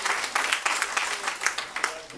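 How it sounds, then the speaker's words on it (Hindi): A kavi sammelan audience at the Delhi Assembly claps in short uneven bursts, several individual claps standing out over a brief scattered round. "तालियां बजा दो भैया के लिए"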